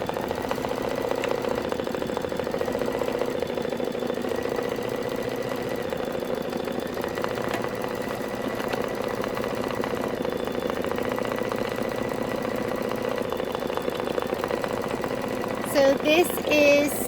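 An embroidery machine stitching quilting lines on a Kimberbell tea towel, a steady close mechanical hum with rapid rhythmic needle chatter running throughout, ending with a few brief clicks.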